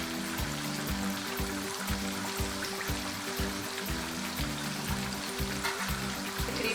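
Chicken pieces for a KFC-style zinger burger fry steadily in hot oil, a dense continuous sizzle and bubbling with no voices.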